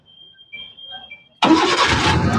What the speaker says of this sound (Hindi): तो एक बार बंद करेंगे गाड़ी को और वापस से स्टार्ट करते हैं।